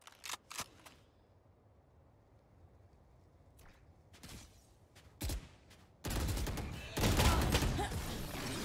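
Gunfire in the shooter game Valorant on the Haven map: a few sharp isolated shots early, then a loud sustained burst of rapid fire toward the end.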